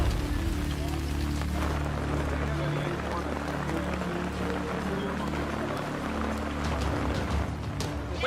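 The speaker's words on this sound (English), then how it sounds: "When did this rain start?" Steady rain pattering on a surface with a low engine rumble underneath, constant and close throughout, no clear speech.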